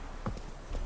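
Roach the horse's hooves clip-clop at a slow walk in The Witcher 3, a few soft, spaced hoofbeats over quiet game ambience.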